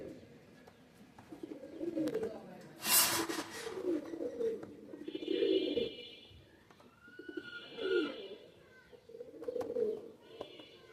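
A pair of teddy pigeons coo in repeated low, throaty phrases close by, with faint chirps from other birds in the background and one brief sharp rustle.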